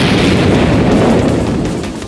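A loud explosion effect from an animated action battle bursts out as a heavy rumbling boom that fills the whole moment, then decays slightly toward the end, with no voices over it.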